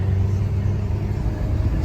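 A Chevy car on a test drive in Long Beach accelerates, its engine a steady low rumble and whir heard from inside the cabin, continuous and moderately loud with no talk.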